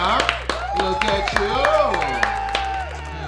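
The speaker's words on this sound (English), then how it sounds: "Clap it up for the people" Audience clapping at a couple's talk show, scattered claps under a voice speaking over them throughout.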